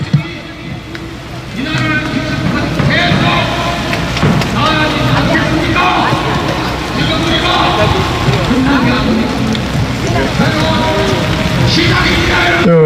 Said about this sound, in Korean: 비도 오고 있고요.